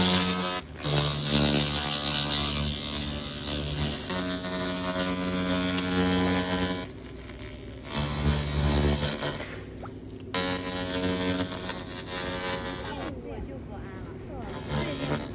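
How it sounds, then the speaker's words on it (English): Pulsed laser cleaning machines of 500W and 1000W remove rust with a loud, steady tonal hum and buzz that breaks off briefly a few times, then resumes with a shifting pitch. "Now we are going to test the rust removal and cleaning speed of the 500W and 1000W pulsed laser cleaning machines."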